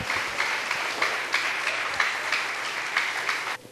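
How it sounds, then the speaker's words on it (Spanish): A church congregation applauds together during a Spanish-language sermon, a steady sustained clapping from many hands that fills the room and cuts off abruptly at the end. "Dele un aplauso al Señor, por favor."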